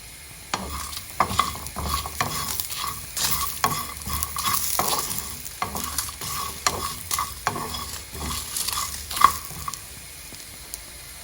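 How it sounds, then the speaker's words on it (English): Dried chilies, fresh coconut pieces and fennel seeds dry roasting in a pan for a fish curry, stirred with repeated scraping and rattling strokes and a light sizzle throughout, close and fairly loud with no talking. "I'm just going to dry roast it for a couple of minutes."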